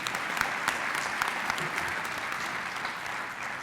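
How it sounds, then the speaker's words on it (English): Audience at a university winter graduation ceremony applauding, a full, steady round of clapping in a large hall, with a few sharper claps standing out near the start. "Give them another round of applause"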